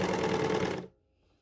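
An overlocker serger stitches a T-shirt seam in a loud, rapid mechanical whir that runs for under a second and then stops abruptly, leaving near silence.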